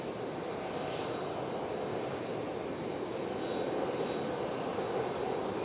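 A Frontier Airlines airliner arriving at Raleigh-Durham International Airport, heard as a steady, broad engine roar at moderate distance that holds level and swells slightly toward the end, with no talking.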